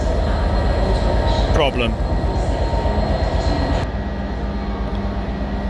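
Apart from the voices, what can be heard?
Class 67 locomotive train at Shrewsbury station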